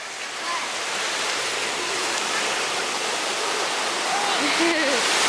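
Ocean surf washes onto Myrtle Beach in a steady, loud rushing wash that builds slightly toward the end, with faint voices mixed in.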